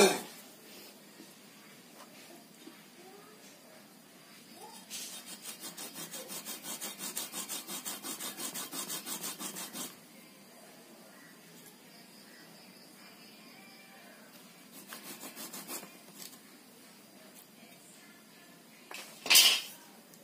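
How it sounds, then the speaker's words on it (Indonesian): A hand saw rasps through a bonsai tree's trunk in two bursts of quick back-and-forth strokes, separated by quieter stretches, with a sharp scrape near the end. "saya harus pakai gergaji"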